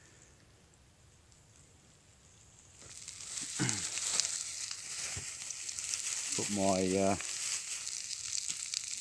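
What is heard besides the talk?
sausages sizzling on a campfire grill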